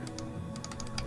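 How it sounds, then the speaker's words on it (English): Computer keyboard typing while a video game is played, keys clicking in quick, irregular bursts close to the microphone with a steady low hum underneath. "Just getting the third person to use the damn keyboard."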